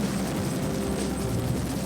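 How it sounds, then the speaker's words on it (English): An EH-101 helicopter, a 15-ton aircraft, drones steadily nearby, a dense low rotor rumble with a constant whine above it, with no voices. "The EH-101 moves through the air like a hummingbird."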